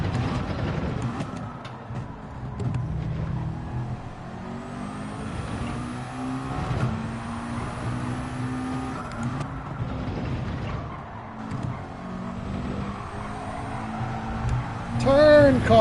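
A race car engine in Gran Turismo 7 at Watkins Glen, a manufacturers cup round, drones steadily and shifts pitch through a lap, with revs rising and falling under a player's talk.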